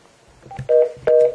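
Two short electronic telephone dialing tones, steady beeps, sound in quick succession at close range with no talking.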